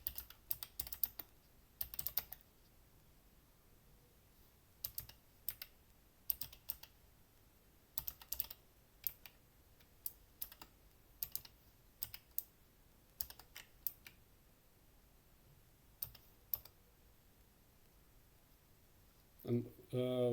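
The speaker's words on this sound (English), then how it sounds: "Let me type it again." Quick bursts of typing on a computer keyboard, scattered clicks in short clusters at moderate distance, with a quiet voice talking in between and a louder spoken stretch near the end.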